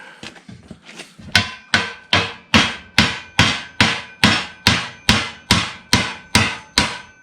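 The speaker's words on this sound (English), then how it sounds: "hammer it some more here." Loud, steady hammer strikes on the metal exhaust pipe of a 1952 Ford F1 truck, about a dozen evenly spaced clanging blows, close up with a brief quieter knocking before them.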